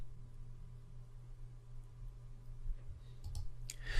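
A single computer mouse click, close and fairly faint over a low steady hum, near the end of a quiet stretch.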